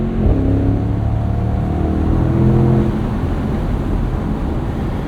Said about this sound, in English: a nice noise from that 4-liter